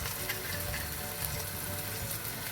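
Meat masala, coriander powder and garam masala frying in a pan, a dense, even sizzle with soft stirring, close and continuous with no voices.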